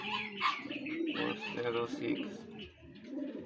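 A racing pigeon coos near the loft as it arrives during a fifth-lap derby in Camalig, Albay, with soft repeated calls mostly under someone talking.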